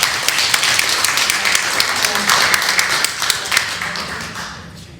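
An audience at a podcast launch panel gives a round of applause, a burst of many sharp claps that stays lively and then fades toward the end, with some voices underneath.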